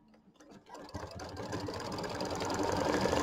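An embroidery machine starts up and stitches a placement line on a quilt block, its rapid needle chatter quickly building into a steady, close mechanical whir.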